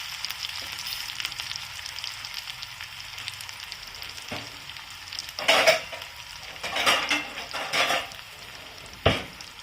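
Onions frying in a hot pan, a steady sizzle and crackle with the clatter of a spatula stirring and scraping, louder bursts of sizzling toward the end, no voices.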